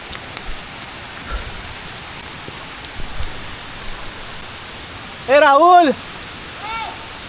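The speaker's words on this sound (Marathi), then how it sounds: "इथं पाऊस पडायला लागला आहे खतरनाक" Steady heavy rain hisses across the whole stretch on a steep trail to KP Waterfall near Khopoli, with occasional louder drops; a sharp warbling whistle-like cry cuts in briefly near the end.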